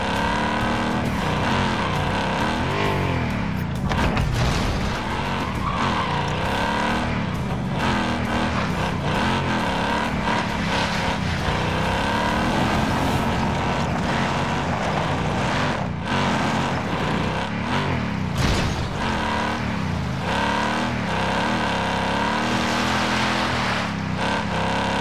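A vehicle drives in Call of Duty Warzone Pacific, with a loud, continuous engine roar that rises and falls with gear changes and occasional tire squeals, persisting without break for the full stretch.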